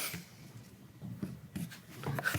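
Pen or pencil writing on paper in a casual couple's podcast setting, a faint scratchy rubbing that comes in short uneven strokes, quiet and close, with no talking over it.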